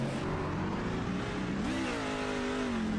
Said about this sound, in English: There was a downshift, and I could see the truck kind of jolt.